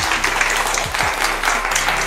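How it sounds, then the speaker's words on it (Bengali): An audience at a Holi-themed family game show claps loudly, a lively, continuous round of applause with brief murmurs of voices underneath. "ওনাদের জন্য একটা জোরে হাততালি হয়ে যাক।"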